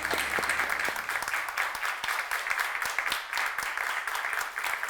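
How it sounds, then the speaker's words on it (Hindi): An audience at a studio talk show bursts into loud, sustained applause, dense clapping continuing without a break throughout. "इसके लिए जोरदार तालियां"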